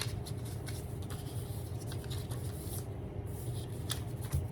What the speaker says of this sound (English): Shuffle random, shuffle random.